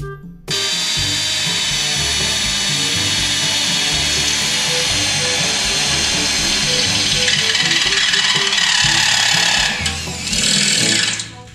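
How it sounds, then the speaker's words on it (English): A power drill whirs steadily and close, drilling holes and grinding loudly for several seconds, with a brief pause near the end before revving again. "You gonna help me drill some holes?"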